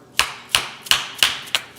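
A dead blow hammer knocking a roll pin out of a plastic MTM PF22 foam cannon part: five sharp, evenly spaced knocks in under two seconds, close and clear with no talk.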